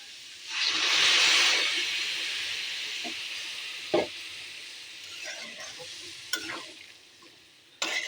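A loud, hissing sizzle bursts up as a little water hits a hot pan of thor cooking, then settles into a softer simmer broken by a few sharp clinks of stirring.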